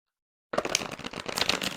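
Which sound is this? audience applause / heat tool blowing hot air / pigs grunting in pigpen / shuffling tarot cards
shuffling tarot cards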